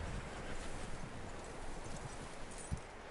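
Horse hooves clip-clop in the video game Red Dead Redemption 2, a soft, steady patter of footfalls under faint wind, with one sharper thump near the end.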